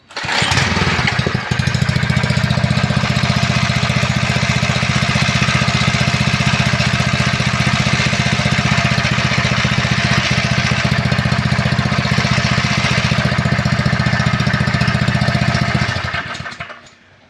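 A Predator engine fitted to a Kawasaki HE130A lawn edger runs steadily at a loud, close, even drone, starting without choke and holding a constant throaty roar for about fifteen seconds before cutting off.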